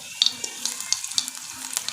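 A small amount of cumin seeds crackles and sizzles in hot oil in a pan, making a steady bubbling fry broken by sharp little pops and spits, close and fairly loud.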